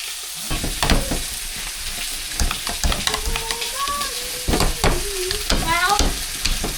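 Rump steak sizzling in a hot pan, a constant close crackle and hiss broken by scraping stirring strokes, with faint voices in the background.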